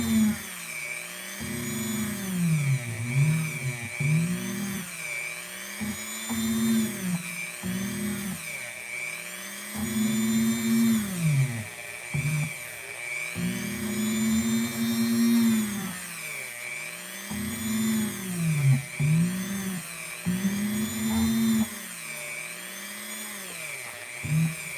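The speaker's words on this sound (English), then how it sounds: "You want to be careful not to sand too much and to try to keep everything round." A small rotary power tool sands plastic action-figure parts with a steady high whine that keeps dipping and rising in pitch as it bites into the piece and eases off, running continuously for about 25 seconds with no talking.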